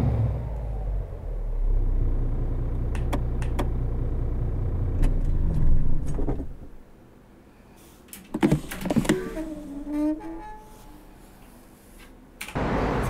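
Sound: MAN Euro 6 truck engine, likely a game sound mod

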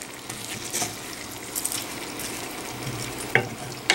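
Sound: potatoes with Anaheim and cayenne peppers frying in pan

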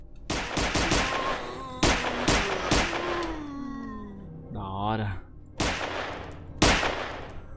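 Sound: gunfire in a video game

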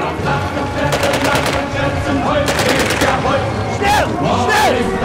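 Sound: MP40 submachine gun fire in a video game

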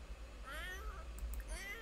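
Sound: cat meowing in video game The Sims 4

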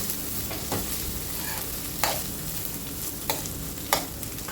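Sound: fish being stirred into masala in a pan

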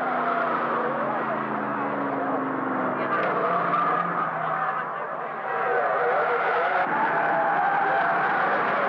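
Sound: Datsun race car locking a brake, 1970 Bathurst 500

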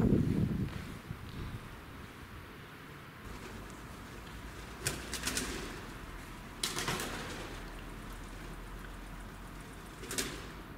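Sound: pigeons flapping about in the rafters

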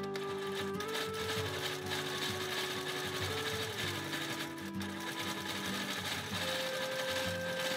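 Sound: quilting sewing machine stitching

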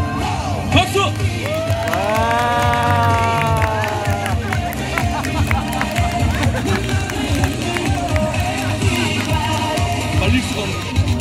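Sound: audience applause at street busking

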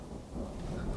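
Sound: thunder from a storm

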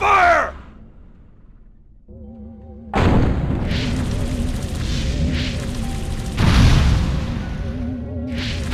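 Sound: gunfire and explosions in the video game Destroy All Humans!

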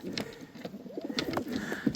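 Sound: pigeons cooing in the loft

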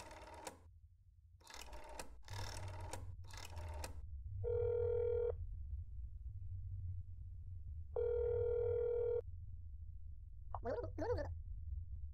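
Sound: telephone ringing after dialing a number in a video game

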